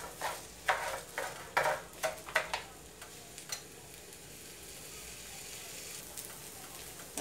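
Washed rice with pumpkin and bacon is stirred and sautéed in a pan, giving a soft sizzle broken by a run of sharp scraping and clicking strokes of the spoon, which fade to a gentle, steady fry.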